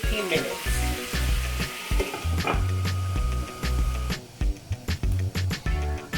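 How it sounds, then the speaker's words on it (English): Goat meat frying with garlic in a pot over medium heat, a steady close sizzle broken by scraping and stirring knocks from a utensil. "Right now, I'm frying up a medium heat."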